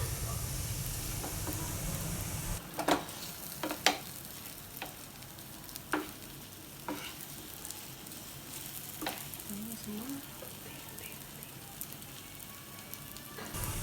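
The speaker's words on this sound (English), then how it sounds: "We will roughly saute it." Tofu and chaap sizzle and fry in an oiled pan, a steady bright crackle broken by repeated scraping and stirring knocks of a utensil against the pan.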